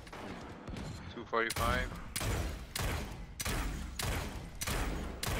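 Mage shots in the battle-royale game Realm Royale fire as a steady series of sharp, evenly spaced blasts, about one every 0.6 seconds, with a player's voice briefly heard early on.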